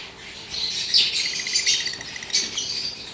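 Many lovebirds in an aviary chirp and tweet busily in bright, overlapping calls, close by, with a faint steady hum in the background.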